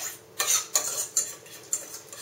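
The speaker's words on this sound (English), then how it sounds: "now we're going to add our quinoa, or your rice, if that's what you prefer" Quinoa is added to a zucchini casserole with repeated scraping strokes of a utensil against a pot or dish, about five rhythmic swishes close by with a faint sizzle underneath.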